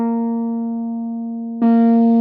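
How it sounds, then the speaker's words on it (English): Electric guitar through an AC30 amp emulation with a treble booster on: a steady sustained note that gets sharply brighter and grittier when a new note is picked partway through, loud and close, no talk. "As soon as you turn the treble booster on, we're really getting into that kind of more Brian May territory."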